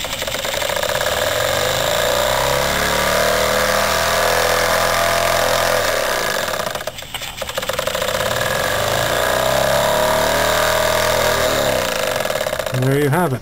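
A Jensen Model 25 steam engine driving a generator, a loud, steady close-up chugging hum with a rapid rhythmic knock, briefly dipping midway and then carrying on.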